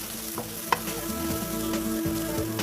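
Red chilli powder and garam masala being stirred into softened onions frying in a pan for chana dal: a steady close sizzle with scraping spoon strokes and one sharp clink.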